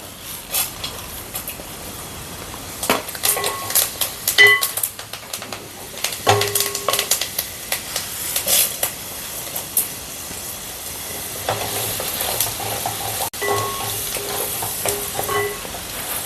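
Urad dal fries in hot oil for puliyogare, a close, hissing sizzle with intermittent crackles and stirring knocks that swells and settles, with no talk.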